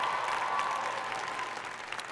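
Graduates at a Barnard College commencement ceremony applaud as a crowd, a dense, steady wash of many hands clapping at a moderate distance, fading slightly toward the end.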